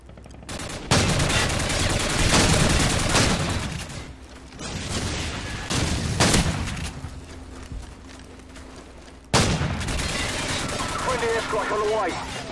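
Call of Duty 4 gameplay with loud, repeated shotgun blasts and rapid gunfire, continuous combat noise throughout with brief pauses, and a voice talking over it.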